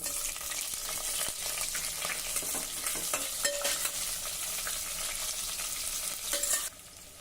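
Dry grated coconut and cashews fry in a pan for masale bhat, giving a steady close sizzle broken by frequent scraping stirs and clinks throughout, with no talking.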